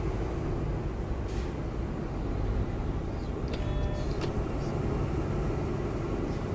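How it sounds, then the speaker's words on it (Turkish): Steady low roar of a Mercedes-Benz Tourismo coach's retarder in a bus driving game, a dense constant drone with engine hum and a few faint high clicks and tones over it throughout. "oyundaki rotardar sesi gerçekten çok gerçekçi olmuş"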